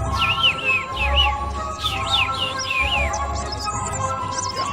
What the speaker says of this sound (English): Above them flew the little bird, chirping merrily.